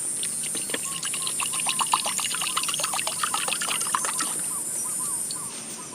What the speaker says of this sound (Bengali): এর মধ্যে একটু জল নিয়ে নিচ্ছি।